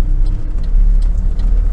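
A truck drives on a mountain road near Mount Ontake, Japan. Its engine gives a steady, loud low rumble that runs through the whole stretch, with road noise layered on top.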